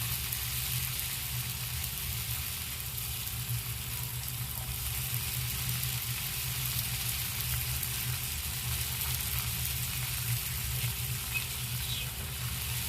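Chicken leg pieces sizzle and fry in a pan, a steady, even crackle holding at moderate level throughout with no pauses or voices.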